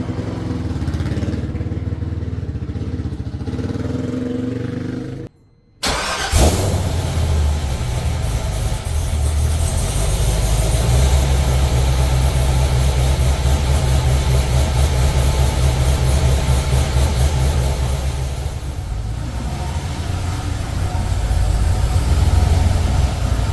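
A C5 Corvette with a rebuilt LS6 V8 starts up after a brief pause, and the engine settles into a loud, steady, rumbling idle that continues close by with slight swells.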